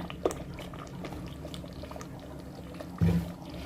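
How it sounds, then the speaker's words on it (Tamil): Sesame oil poured in a thin stream over simmering tamarind curry made with garlic and peanuts; a faint, steady liquid trickle over a low bubbling hum, with a brief bump near the end. "மறுபடியும் கொஞ்சோண்டு மேலே ஊற்றுங்க"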